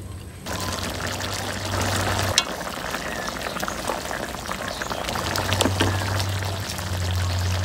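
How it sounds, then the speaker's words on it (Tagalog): Garlic and onion sautéing in an oil-filled pan for a spicy chicken caldereta, a steady sizzle and crackle running throughout with occasional stirring clinks, close and fairly loud. "Sa kawali na may magisa tayo ng bawang at saka sibuyas"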